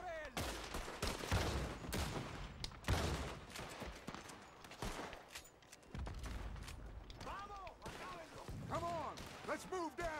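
Gunfire in Red Dead Redemption 2 breaks out in repeated bursts and volleys of shots, loud and close, with voices shouting over the fighting throughout.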